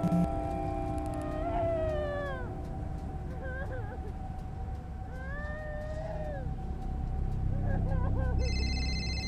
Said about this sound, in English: My phone's ringing again.